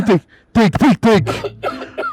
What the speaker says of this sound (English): so this cough is serious